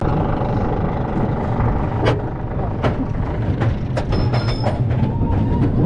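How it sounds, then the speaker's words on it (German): A roller coaster train being shunted on a switch track at Kolmården rumbles in a loud, steady low drone, with scattered metallic clanks and knocks and a brief high squeal. "So wie es aussieht, rangieren die gerade einen Zug raus oder haben den getauscht."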